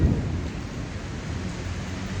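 Steady rain with a low thunder rumble outdoors just after a 5K run, a continuous wash of rainfall at even level with no distinct strikes.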